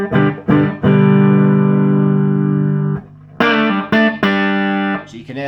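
Electric guitar chords through the faulty, crackly channel of a Vox AC30 TB reverb amp in need of a recap, a long sustained chord followed by several choppy, broken-up strums, loud and close.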